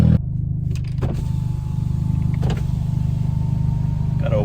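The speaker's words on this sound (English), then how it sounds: "Gotta open the windows. Gotta open the sunroof. Crack the rears a little bit" Power windows on an orange-and-white VW Golf R whir open over the low, steady idle of its engine. A few faint clicks and thumps sound inside the cabin, and no one speaks.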